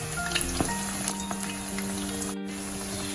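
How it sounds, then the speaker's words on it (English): Steady oil sizzle and crackle from onion fritters frying on a medium-low flame, continuous and close, with a few faint clinks and a brief dropout near the end. "We have to fry them for around 5 minutes, turning on both the sides in a very medium low flame."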